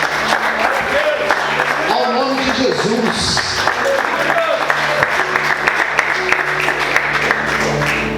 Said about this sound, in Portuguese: Aplauda, glorifique,